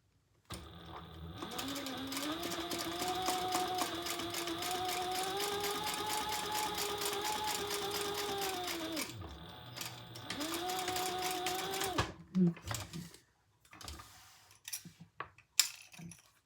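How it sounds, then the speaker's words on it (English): A sewing machine stitching up the side of a crossbody bag: a close, steady, rapid mechanical whir for several seconds, a brief pause, then another run, followed by a few clicks and handling noises. "Now we're gonna sew up one side and down the other"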